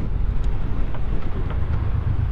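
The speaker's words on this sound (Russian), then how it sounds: "Ух ты, блин, какой ветрюган." Strong wind buffeting the microphone during a motorcycle ride near Rostov-on-Don, a dense low roaring rumble that stays loud and continuous, without speech.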